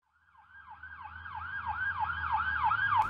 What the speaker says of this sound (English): Mommy, look, an ambulance.